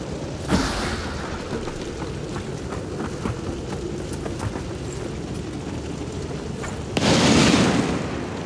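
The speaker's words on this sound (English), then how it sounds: "Don't know why it sounds like an explosion." A deep booming burst, like an explosion, plays in Lords of the Fallen. It hits sharply near the start, a steady rumble runs underneath, and a second loud broadband blast arrives near the end.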